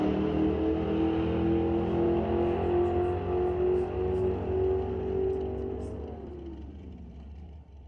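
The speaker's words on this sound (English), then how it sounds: "rolling through the gears in the 1985 Monte Carlo" A 1985 Chevrolet Monte Carlo Superstock drag car at an NHRA Canadian event drones loudly as it pulls hard through the gears, then fades away down the strip over the last couple of seconds.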